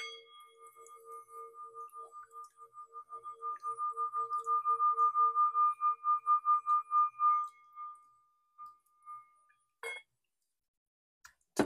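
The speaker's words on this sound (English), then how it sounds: "your sound bowl was like not resonating very much" A sound bowl struck once gives a thin, faint ringing tone that pulses and wavers for several seconds before dying away weakly, followed by a couple of soft clicks and taps in a quiet room.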